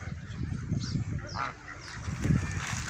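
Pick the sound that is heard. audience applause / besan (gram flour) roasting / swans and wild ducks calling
swans and wild ducks calling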